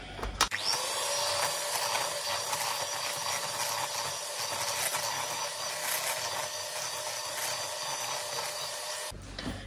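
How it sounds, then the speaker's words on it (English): Keto bread dough of salt, baking powder and blended psyllium husk being mixed, most likely by an electric mixer, giving a steady whirring, grinding churn that runs almost unbroken for about nine seconds before stopping abruptly. "And then I'll just mix it all."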